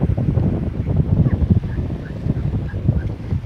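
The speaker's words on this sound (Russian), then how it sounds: "Ветер дует приличный" Strong wind buffets the microphone on a hotel beach on the Abu Dhabi Corniche, a steady low roar with gusting rumble throughout and faint higher tones drifting above.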